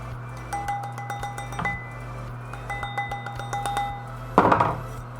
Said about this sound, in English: I'm going to try to hit down here because that's going to be the biggest area